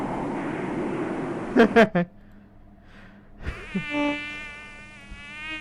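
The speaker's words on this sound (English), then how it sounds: "Oh, mosquitoes." Mosquitoes buzz in The Oregon Trail 5th Edition, a thin whining drone rising after a few sharp game effects, with voices talking over the game sound.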